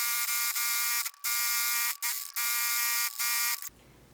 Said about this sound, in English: we're going to stitch around the neckline using a stretch stitch